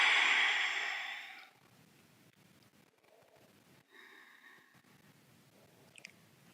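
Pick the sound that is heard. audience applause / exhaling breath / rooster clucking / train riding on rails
exhaling breath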